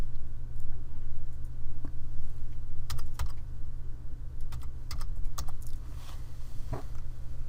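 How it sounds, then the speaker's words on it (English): Keys clack on a computer keyboard in quick, irregular bursts of close, crisp taps over a low steady hum, with no talking. "So let's type that in."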